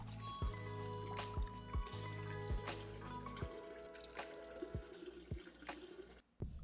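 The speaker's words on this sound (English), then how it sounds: "I like to use care when filling my tank back up." Water is poured back into an aquarium to refill the tank: a steady trickling, splashing pour with several sharp plinks and drips, fairly faint and close, ending abruptly.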